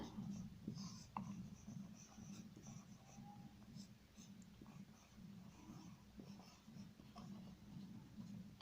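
Chalk or marker writing on a board in a classroom, soft scratchy strokes with a few sharper taps, faint against a steady low background hum.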